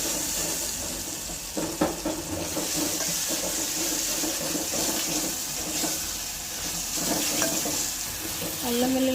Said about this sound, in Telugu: 1 స్పూను అల్లం వెల్లుల్లి పేస్ట్ వేసుకొని కలుపుకోండి.